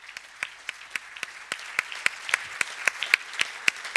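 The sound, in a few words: audience applause for the panel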